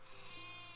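A sheep bleat sound effect from the Catan Mobile video game rises briefly over a steady electronic game background, soft and short.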